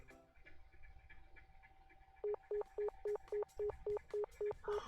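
A phone call in the video game Nekopara: a few quiet dialing tones, then a long run of evenly spaced ringback pulses, each short burst repeating at a steady rhythm, clear and alone.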